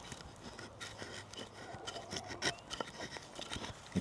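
A Survival University Courage mid-sized survival knife carves shavings from a log braced against a surface, giving repeated close, dry scraping and rasping strokes of steel on wood at a fairly quiet level.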